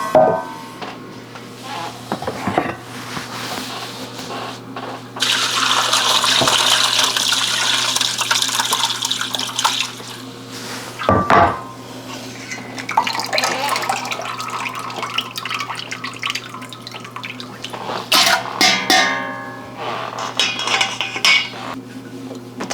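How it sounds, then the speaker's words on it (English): Whey being drained off cheese curds while making Gouda, with water pouring and splashing in bursts alongside clinking pots and utensils, moderately loud and close. "We're going to drain 1/3 of the whey off again."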